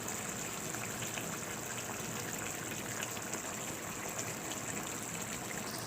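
A little water is poured into a pan of chicken curry cooking with tomatoes and cashew paste, giving a soft continuous gushing trickle that stays quiet and steady, with no talk.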